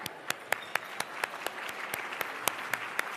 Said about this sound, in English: I am going to get a big applause for all of our sponsors.